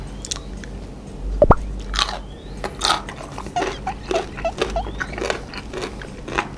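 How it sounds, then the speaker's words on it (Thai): Crunchy mukbang eating of crab with pickled eggs, close and loud: repeated wet bites, chewing and crunching in an irregular rhythm, one sharper snap early on, with no talking. "เราจะกินปูนะครับ พร้อมกับไข่ดองนะทุกคนนะ"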